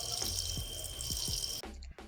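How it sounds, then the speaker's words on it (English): Warm water runs steadily from a tap during a surgical hand scrub before the hands are wetted, a continuous broadband rush with a brief break near the end and faint clatters underneath. "turn on the water and adjust the flow so that the water is warm"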